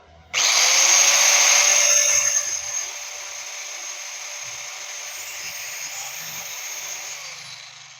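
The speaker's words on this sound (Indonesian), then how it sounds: "kita tes untuk gerinda apa namanya, gerinda udah kelihatan ya" A Wipro pneumatic air grinder is tested, starting abruptly with a loud, high whine that settles into a slightly lower, steady running tone for several seconds with no talk.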